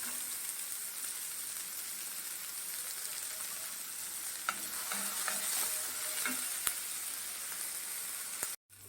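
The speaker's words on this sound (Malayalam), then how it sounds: "അതിലേക്ക് നമുക്ക് ഈ പച്ചമുളകും സവോളയും കൂടി ഇട്ട് കൊടുക്കാം. ഇതൊന്ന് നല്ലപോലെ ഒന്ന് വഴറ്റിയെടുക്കട്ടെ" Green chilies and onion sautéing with salt in a pan for a tomato curry, a continuous even sizzle with occasional stirring taps, moderately quiet and without voices.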